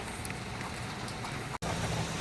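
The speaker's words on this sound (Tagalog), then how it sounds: "sumilong lang ako saglit kasi ayan yung ulan" Steady rain hisses continuously in the open, a dense even wash with scattered drop patter and a brief dropout near the end, with no voices.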